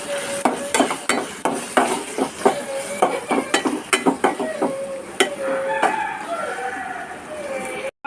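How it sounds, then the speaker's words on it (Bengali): Shrimp cooks in a pan at a home kitchen, with a rapid series of utensil scrapes and clinks against the pan over a faint sizzle. "এই তো আমি এখানে তাড়াহুড়ো করে চিংড়ি মাছ রান্না করে নিচ্ছি।"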